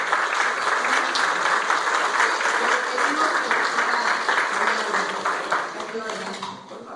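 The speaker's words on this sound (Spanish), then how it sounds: "Entonces también pedimos un aplauso a él" An audience at a gathering on oral tradition gives a dense, sustained round of applause that stays full and loud for several seconds, then tapers off at the end.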